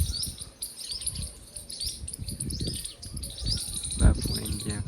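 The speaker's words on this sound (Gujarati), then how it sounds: "કિસ્કોલા પક્ષીઓ બધા બોલે બપોર ને" In Botad village at midday, small birds chirp and tweet in repeated bursts, moderately close, over a soft rustling background with a brief thump near the end.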